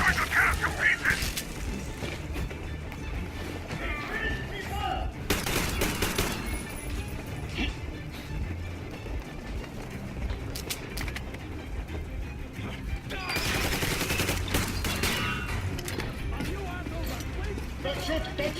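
Gunfire in Metro Exodus, with bursts of automatic shots and scattered single cracks coming in waves over a noisy battle background, with voices heard shouting in places.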